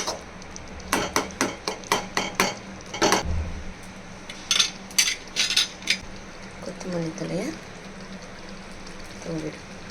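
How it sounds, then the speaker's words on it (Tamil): A metal spoon scrapes and clanks against a pan of poori masala with green peas in a quick series of knocks, followed by quieter stirring and a faint low background hum. "கிளறி விட்டுருங்க, அவ்வளோதான்."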